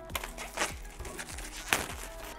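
Crinkly plastic wrapping rustles in a few sharp bursts between quieter handling noises, close by and moderately loud.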